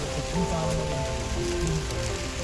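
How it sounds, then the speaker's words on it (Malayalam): Steady, dense rainfall at Mattupetty pattering on a surface, close and continuous, with faint voice-like tones drifting underneath. "നല്ല മഴയുണ്ട്, അടിപൊളി മഴ."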